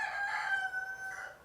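A cockerel crows once in a long, sustained call with a strained, harmonic tone, fairly close and clear against quiet surroundings, near Loch Lomond.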